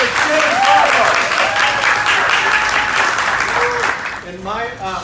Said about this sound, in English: Everyone please give a big round of applause for our Assembly Member James Ramos